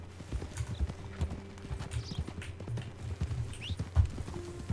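Horse hooves clip-clop steadily in an even walking rhythm, close by, with a brief whinny and faint ambient noise in the background, in the video game Red Dead Redemption II.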